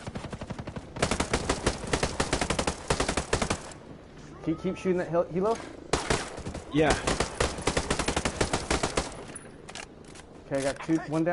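Rapid automatic gunfire rattles in long, loud bursts during a hardcore milsim session of Ghost Recon Breakpoint, with short pauses where someone talks over the radio.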